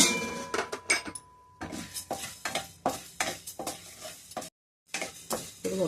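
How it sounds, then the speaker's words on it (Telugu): Coriander seeds being dry-roasted in a pan, heard as rhythmic, close scraping and rattling of the seeds under a spatula, with brief pauses between strokes. "ధనియాలు ఇవి కూడా డ్రై రోస్ట్ చేసుకోవాలి"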